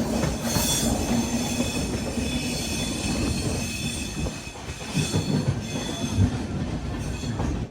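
Sabari Express passenger train rolling through Kollam Junction, a steady close rumble of wheels on rails with squealing and clattering carriages throughout, swelling slightly toward the end.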